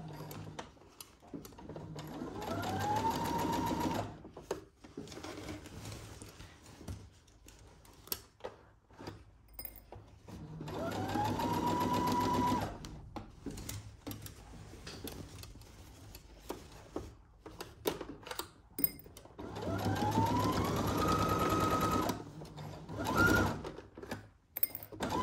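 A home sewing machine stitches a 5/8-inch seam on a Simplicity 1802 garment in three runs of steady mechanical whirring, each rising in pitch as it speeds up, separated by quieter clicks and handling between bursts.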